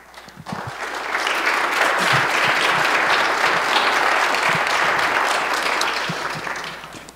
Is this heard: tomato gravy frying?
no